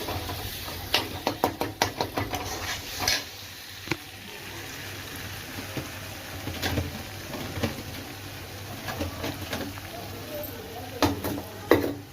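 Chilli powder stirred and sautéed in a pot for a Tamil sankara fish curry, with a run of quick spoon scrapes and taps near the start and scattered clinks later over a low, steady cooking hiss.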